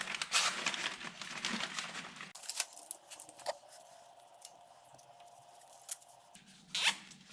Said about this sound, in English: So I'll actually zip tie these in place.